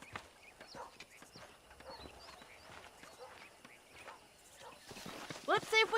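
Horse hooves clip-clop in a Red Dead video game on a ranch near wild horses, a soft uneven trotting patter under ambient sound, with a louder burst near the end.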